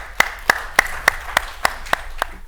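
About eight evenly spaced, crisp claps sound at a steady slow rhythm at a cobalt market conference session, with no talk over them. They sound more like a single clapper than a full crowd.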